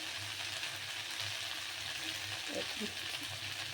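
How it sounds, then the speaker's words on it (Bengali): Mixed vegetables such as cauliflower, cabbage and beans fry in mustard oil in a kadai with black cumin seeds and green chillies, giving a soft, steady sizzle that stays quiet and continuous. "কড়াইতে সর্ষের তেল দিয়ে ওর মধ্যে কালো জিরে, কাঁচা লঙ্কা ফোড়ন দিয়ে সমস্ত সবজিগুলো ভালো করে ধুয়ে নিয়ে দিয়ে দিলাম।"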